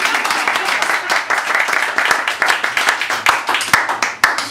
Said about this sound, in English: You could applaud at any time.